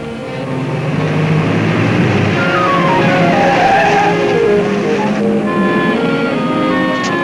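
A car pulls away with its tires skidding and squealing, the screech rising and sliding in pitch over a loud engine roar for several seconds and then fading a little toward the end.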